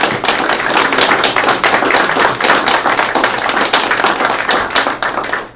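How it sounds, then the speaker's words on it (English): A crowd applauds the candidates at a city commission election forum, with sharp individual claps standing out in a steady, fairly loud round that carries through to the end. "Let's give both of the candidates a round of applause."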